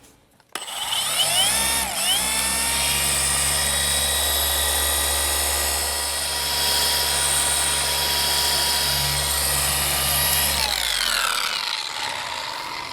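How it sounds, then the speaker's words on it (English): A rotary polisher with a wool pad spins up on the paint of an E36 BMW M3 in Techno Violet, a loud steady whine that dips in pitch under load, runs evenly, then winds down at the end. "notice I was using wool, not microfiber on the rotary"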